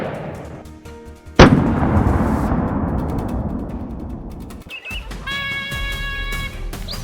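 A single loud rifle shot fired at a wild boar in a farm field cracks out sharply, then rings away into a long fading echo, followed by quieter rustling and faint high tones.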